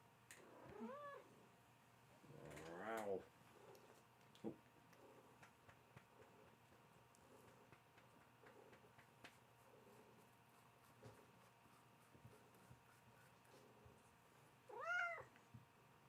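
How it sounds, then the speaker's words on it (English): A loud, talkative tomcat meows indoors in a hobby workshop, a few distinct calls spread apart with a long one near the start and another near the end, over quiet room noise. "my cat is loud and talkative"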